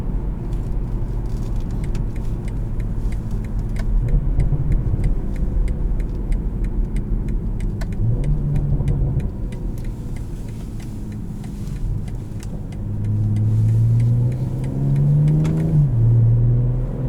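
A 2020 BMW M340i sedan accelerates hard, its engine revving up steadily through the gears with a loud, continuous growl and rising pitch, heard from inside the cabin with faint ticking in the background.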